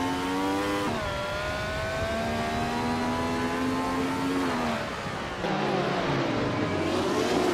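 A Ferrari 312 race car engine during a race, high-pitched tonal whine holding steady, then dropping and shifting pitch as it changes gear or passes, loud and continuous with no talk.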